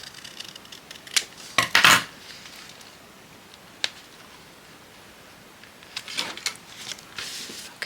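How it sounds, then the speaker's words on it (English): Scissors trimming off craft material, a few crisp snips close by, clustered early and again near the end, with quiet pauses between. "Let's just trim that off."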